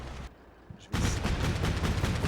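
Sustained gunfire in the wargame Combat Mission Black Sea erupts after a near-silent lull, a loud, dense rattle of rapid repeated shots that continues without pause to the end, with no voices.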